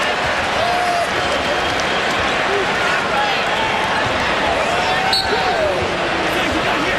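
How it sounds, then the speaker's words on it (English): A college basketball crowd murmurs at Duke during a 2006 Marquette vs Duke game. The arena buzz is dense, loud and continuous, with occasional ball bounces and squeaks through it. "The crowd still buzzing over that"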